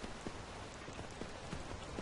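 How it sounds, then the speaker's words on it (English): Steady rain falls over the town of Iverstead in the video game Skyrim, an even, dense hiss with scattered soft patters, with no voices. "It's quite a rainy place"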